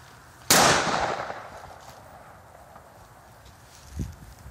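A single sharp, loud gunshot from a .410 shotgun firing a .45 Long Colt round outdoors, with a long fading echo trailing off and a soft thud a few seconds later.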